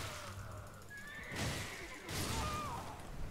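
A horse in the video game Elden Ring whinnies in short rising-and-falling calls, mixed with game effects and sudden bursts of impact noise, fairly close and clear.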